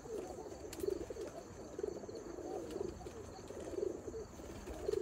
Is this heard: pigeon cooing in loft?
yes